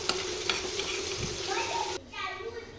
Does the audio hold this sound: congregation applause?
no